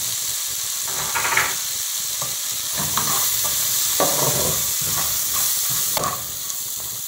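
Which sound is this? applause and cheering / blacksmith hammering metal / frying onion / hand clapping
frying onion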